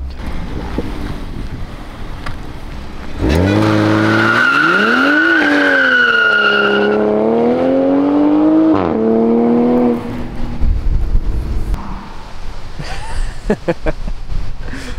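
A Toyota Mark V Supra with an aftermarket exhaust revs and launches on a freshly paved road, its loud rising and falling tone sustained for several seconds before fading into road noise.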